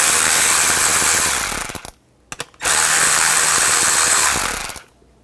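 Ratchet with a 7mm socket backing out the seat switch panel bolts on a 2007 Chevy Silverado 1500 Classic: rapid clicking pawl in two sustained bursts separated by a short pause, close and loud.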